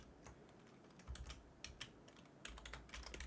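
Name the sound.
typing on a computer keyboard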